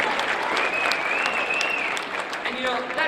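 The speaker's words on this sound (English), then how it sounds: "that feels really cool if you guys applaud for that" A crowd at a talk breaks into sustained applause, thick continuous clapping at full volume that holds steady for the whole stretch, with a faint tonal whine running beneath.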